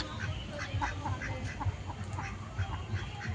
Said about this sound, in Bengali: তিনটে সাদা হাঁস